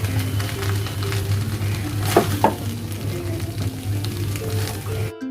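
Egg fried rice seasoned with soy sauce, sugar and salt cooks on a stove, giving a steady sizzle with a low hum beneath and a couple of brief scraping stirs midway, close and fairly loud, with no talking.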